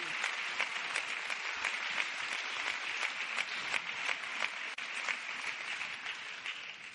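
Sustained applause from a lecture audience honouring trustees, dense steady clapping throughout with no talk over it.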